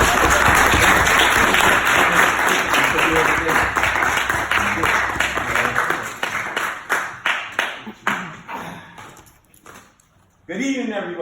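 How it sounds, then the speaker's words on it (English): Audience applause for a Toastmasters speaker, loud and sustained, then breaking into thinning individual claps that fade to near silence before a voice begins speaking. "A round of applause for Mr."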